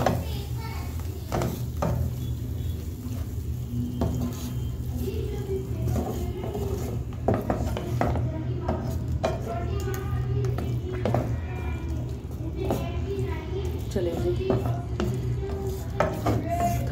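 Chicken paste being stirred and mixed in a pan with a spoon, giving steady close scraping and soft knocking over a continuous low sizzle throughout.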